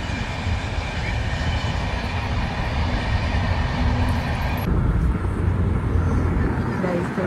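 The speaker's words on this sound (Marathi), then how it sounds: "ट्रेन पण आली." A train arriving at a station in the rain, a loud continuous rumble of rail cars with rainfall, while people talk over it.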